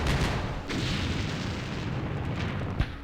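Artillery fire in Campaign Series Vietnam at Dien Bien Phu, a dense rumbling barrage of distant booms rolling continuously with one sharper thump near the end, no talking.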